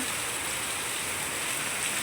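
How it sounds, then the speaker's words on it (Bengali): Heavy monsoon rain pours steadily in a flooding residential area, a dense, even hiss of falling water that stays loud and constant throughout with no voices. "দেখো কীরকম বৃষ্টি করছে"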